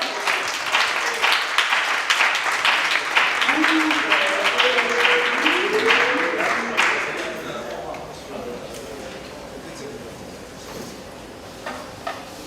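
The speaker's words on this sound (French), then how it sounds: "On acclame tous ici présents l'homme qu'on appelle éloquent." At an open mic slam poetry night, an audience breaks into dense, loud applause for a performer, with a voice calling out over it. After about seven seconds the clapping fades into a quieter room with scattered talk.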